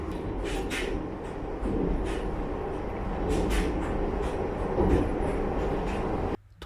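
A local train on a line near Sapporo pulls out of a small rural station, a loud continuous rumble of wheels and motor with rhythmic clatter that cuts off abruptly at the end.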